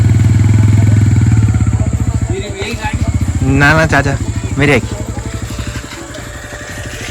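A motorcycle engine runs during a ride, a steady low throbbing putter that slowly fades toward the end. Voices talk over it in the middle.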